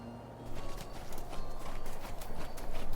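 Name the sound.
horse hooves clip-clopping at a trot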